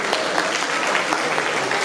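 Audience at a CORÉDIA 50th anniversary gathering breaking into applause, a dense burst of many hands clapping close and loud, filling the whole short moment without pause.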